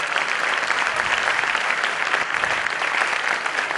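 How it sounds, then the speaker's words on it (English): Sustained audience applause at an extempore speaking event, a dense steady wash of many hands clapping at even loudness throughout, with no speech over it. "Can we applaud, guys, in the center?"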